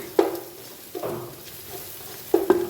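Garam masala powder being stirred into frying onion masala for beef biryani, with a few distinct scraping strokes of a spoon in the pan over a soft, steady sizzle; no talking.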